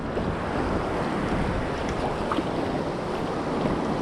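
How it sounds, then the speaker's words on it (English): Large sea waves churn around a kayak on the open coast near Durdle Door, a steady rush of surf and water with wind buffeting the microphone throughout. "The waves are too big"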